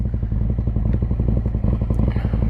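A motorcycle engine rumbles close and loud in Savannah, Georgia, with a rapid, throbbing low pulse that holds steady throughout the short stretch.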